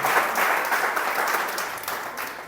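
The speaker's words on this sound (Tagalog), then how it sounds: "Lakasan natin ang palakpak kay Lord." Crowd applause for the Lord at a wake service, a close burst of dense clapping that holds steady then gradually tapers off.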